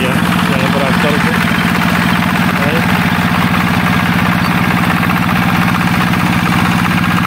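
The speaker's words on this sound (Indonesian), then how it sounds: "Nah, ini ya, yang traktor itu." A tractor engine runs at a steady, continuous idle in an open field, holding a loud, even drone throughout while people talk over it.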